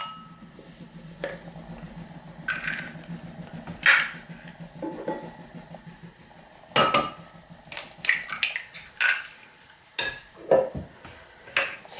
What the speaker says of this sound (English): what we're going to do is beat our eggs